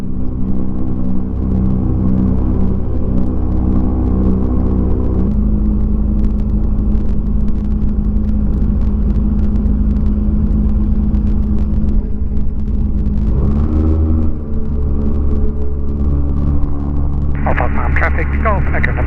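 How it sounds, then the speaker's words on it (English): A light aircraft taxis out along the grass strip at Old Park Farm, its engine droning in a constant loud rumble with a shift in pitch partway through, heard from inside the cockpit and joined by radio chatter. "Here we are taxiing out at Old Park Farm."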